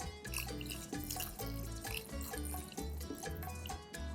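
Water pours steadily onto sugar in a pot with a continuous splashing, trickling sound, close and fairly loud throughout.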